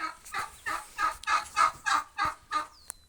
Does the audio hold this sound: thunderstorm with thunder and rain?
no